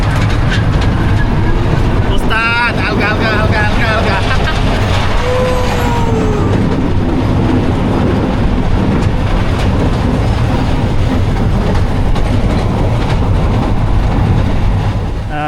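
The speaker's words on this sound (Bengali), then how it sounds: "আমরা কিন্তু ট্রেনে উঠে গেছি" A small amusement park ride train at Aladin's Park in Mymensingh runs steadily with a constant loud rumble and rattle, while wind noise and faint voices come through.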